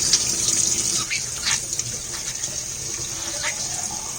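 Running tap water pours steadily into a hamster's water bottle while it is swirled and rinsed, giving a continuous splashy gush with small sloshing bursts close by.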